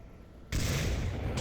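A grenade detonates in the Onward VR shooter, a sudden loud burst after a quiet lead-in that roars and rumbles on for nearly a second.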